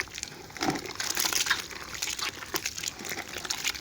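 Leftover rotis being mixed with water by hand, a continuous wet squishing and crinkling with scattered splashes and crunches, close and moderately loud, with no talking.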